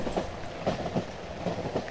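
Rhythmic clickety-clack of train carriages rolling over rail joints in the horror game Cry of Fear, steady repeated wheel beats under a low rumble, no talk.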